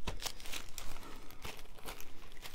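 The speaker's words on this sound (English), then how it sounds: "I've got a plastic bag." A plastic bag crinkles and rustles in repeated bursts close to the microphone, handled during a junk journal crafting session, with no talking.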